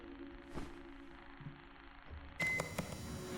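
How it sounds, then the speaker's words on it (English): A door buzzer sounds in the Dreadthorn Therapist indie horror game, a short electronic tone arriving suddenly near the end after a quiet, humming room with one faint earlier noise. "just press the buzzer whenever you're ready"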